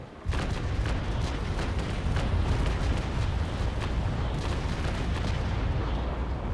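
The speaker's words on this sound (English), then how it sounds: "Fire." A naval broadside thunders in the Naval Action sailing-ship game as a dense, sustained rumble of cannon fire with rapid overlapping booms, loud and close from start to finish.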